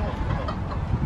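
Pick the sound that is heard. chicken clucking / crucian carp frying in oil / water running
chicken clucking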